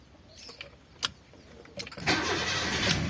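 A Honda Jazz RS with a sticking ignition key switch clicks through a few soft key turns, then the starter cranks and the engine catches into a steady, close idle.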